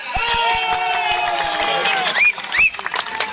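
A crowd at a Samajwadi Party election rally in Moradabad claps and cheers in a dense, continuous roar, with a few sharp whistles cutting through near the end.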